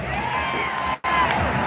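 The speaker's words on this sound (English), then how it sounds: "What a great crowd!" A rodeo arena crowd cheers and whoops loudly and continuously, with a brief sharp drop in the roar before it surges straight back.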